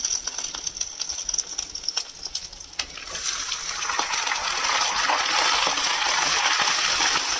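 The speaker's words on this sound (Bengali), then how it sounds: "এবার এটাকে এটার সঙ্গে খুব ভালো করে মিশিয়ে একটু ফ্রাই করে নেব।" Half a kilo of bone-in chicken pieces, cooked for chicken shorba, is stirred and fried in a pan. Scattered clinks and stirring come first, then a dense, loud sizzle swells and holds for the last few seconds, with no talk.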